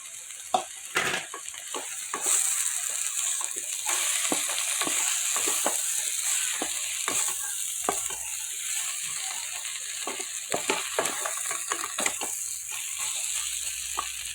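Capsicum frying in a pan for chilli chicken, a steady sizzle broken by repeated scrapes and clacks of a spatula stirring, close and moderately loud, with no voices.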